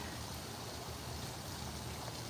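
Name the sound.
fountain water at Disney's Port Orleans Resort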